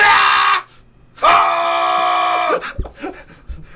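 A man lets out two loud, sustained yells, the first about half a second long and the second over a second long, close up with a brief pause between them and some rustling and clatter afterward.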